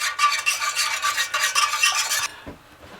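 Cornstarch whisked into chicken broth in a pan: a quick rhythmic scraping swish of a whisk, repeated strokes for about two seconds before stopping with a small knock.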